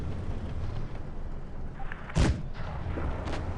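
A single heavy cannon shot rings out from a Jagdtiger tank destroyer in WoT Blitz, a sharp loud boom that cuts through a constant rumble of engine and battle noise, with no talking.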